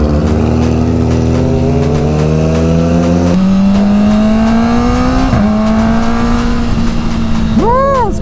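A Kawasaki Ninja ZX4-RR with a full titanium exhaust rides along, its engine droning loud and steady as revs climb through gears, with shifts and rising whine and heavy wind rumble.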